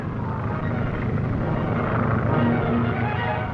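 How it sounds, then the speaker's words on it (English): A 1930s aircraft engine drones steadily and loudly throughout, a continuous propeller roar with no voices over it. "Zorka plane 8 miles off Devil's Point, heading for the Navy anchorage."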